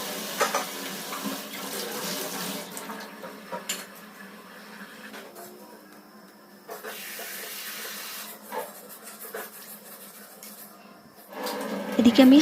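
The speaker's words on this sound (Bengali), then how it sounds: "আর আমি চালটা ধুয়ে নিচ্ছি" Rice is rinsed in a pot under a running tap, giving a steady close hiss of flowing water with occasional clinks of the vessel and splashes as the grains are stirred.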